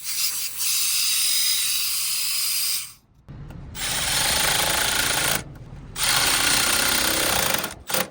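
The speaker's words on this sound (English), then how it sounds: "so I'm going to blow this out with nitro." Nitrogen blasts in loud, steady hissing bursts through an AC system's refrigerant service valve to clear debris, with three long blows separated by brief pauses.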